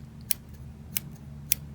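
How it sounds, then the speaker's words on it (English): Small, sharp-tipped embroidery scissors snip three times at an even pace, each a crisp, close metallic click over a quiet background. "These are embroidery scissors."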